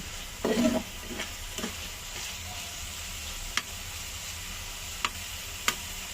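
Khichuri frying in a pan, stirred now and then, with a brief loud sizzle-and-scrape burst early on followed by a soft steady fry and a few sharp metallic clicks of the spoon against the pan.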